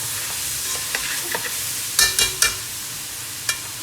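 Turmeric being stirred into minced meat in a karahi, a steady hot sizzle under several scraping strokes of a spoon against the pan, close and fairly loud.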